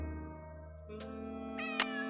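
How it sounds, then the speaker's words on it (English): A cat meows loudly and close, a sustained tonal cry followed by a couple of sharper, higher meows over a steady humming background. "This cat is so loud."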